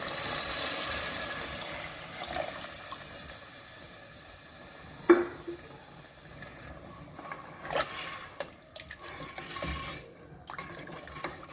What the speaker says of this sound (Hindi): अब मैं इसके अंदर 3 गिलास पानी के शामिल करने लगी हूँ ताकि मज़ेदार शोरबा इसका बन जाए।